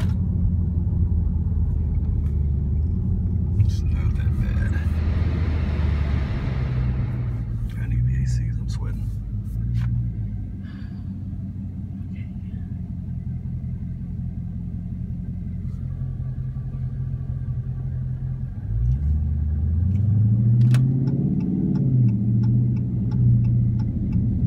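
A Dodge Charger Scat Pack's engine rumbles steadily and loud throughout while driving, with a deeper swell near the end and people talking over it.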